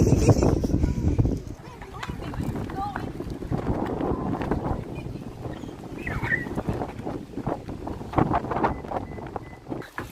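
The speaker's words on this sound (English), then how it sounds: "It's not really that cold though, but it's so windy." Strong gusty wind roars across the microphone throughout, with a loud burst at the start and rumbling buffeting beneath faint voices.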